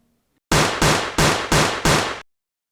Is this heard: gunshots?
yes